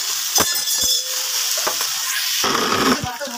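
Boiled potatoes fry in hot oil with a loud, continuous sizzle, broken by several clinks and scrapes of a utensil against the pan as they are stirred up close, and no talking.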